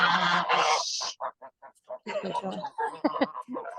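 Homestead geese honk loudly nearby in a rapid, uneven series of calls, one long blaring honk followed by choppy bursts of squawking.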